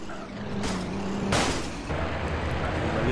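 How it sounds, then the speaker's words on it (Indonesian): A loud burst of explosive noise as a rocket car explodes in a game, over a steady engine rumble, with a second broadband blast a moment later. "Mobilnya meledak."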